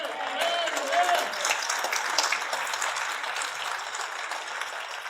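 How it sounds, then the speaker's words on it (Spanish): Steady applause from a sizable church congregation during a Sunday service, dense clapping sustained throughout with a faint voice underneath. "Aplauso para la Iglesia de Filadelfia."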